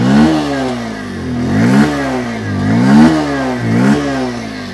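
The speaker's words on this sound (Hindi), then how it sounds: "थ्रॉटल लेता हूँ," A Bajaj Pulsar 125cc motorcycle engine is revved repeatedly with the throttle, rising and falling in four or five loud, close surges with a slightly bassy exhaust note, heard alone.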